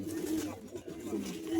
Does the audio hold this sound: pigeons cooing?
yes